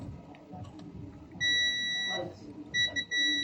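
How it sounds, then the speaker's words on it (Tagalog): A multimeter continuity buzzer checking a capacitor in a 32-inch LED TV gives steady high-pitched beeps twice, a long tone then a shorter burst, over faint background voices and room noise. "Buzzer check muna kung shorted ang ating capacitor"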